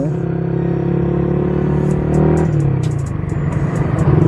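A motorcycle's loud exhaust drones and revs on a Sunday ride, a deep throbbing engine note held steadily before shifting pitch and roughening partway through, close and continuous.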